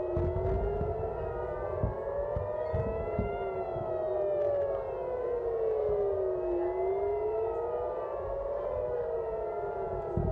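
Rocket alert sirens in Israel's Tel Aviv area wail continuously, rising and falling in long, slow sweeps, loud and steady without pause.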